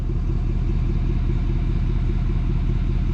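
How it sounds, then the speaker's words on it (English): A truck engine idling steadily up close, a continuous low rumble with a rhythmic pulsing that may hint at a misfire, no talk. "I can't tell if the truck sounds like it's misfiring or what, or if it's not an issue."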